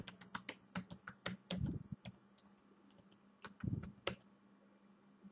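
Typing a Google search on a computer keyboard: bursts of crisp, close keystrokes in quick irregular runs, a couple of heavier clacks like the space bar or enter, then a pause and a few more taps, without speech.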